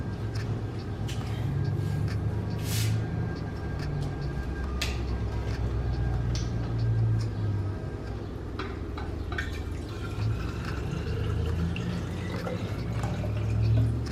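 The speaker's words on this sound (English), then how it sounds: "So I'm going to fill up my bottle." Water runs from a tap into a milk-carton-shaped water bottle, a continuous trickling fill with drips and splashes over a low steady hum, no talking.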